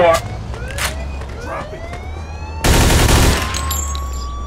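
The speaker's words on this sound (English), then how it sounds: "shooting a gun." Gunfire in the video game Mafia II: a sharp shot early on, then a dense burst of rapid automatic fire near the middle, loud and close, with a siren wailing through the scene.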